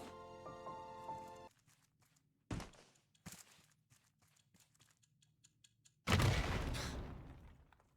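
In the video game Raft, a bomb explodes with a sudden loud, broad boom that decays over about two seconds, following quieter thuds and footstep-like knocks.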